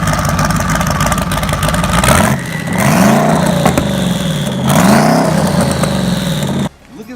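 A Ford Focus ST with an AWE exhaust revs loudly nearby, the engine note climbing and falling in two distinct swells over a rough idle before cutting off abruptly.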